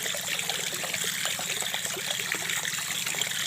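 Water pours steadily into oyster mushroom compost while fruiting bags are prepared, making a continuous close trickle with no talking.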